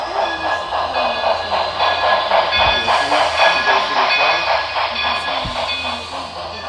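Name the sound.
model train running on a club layout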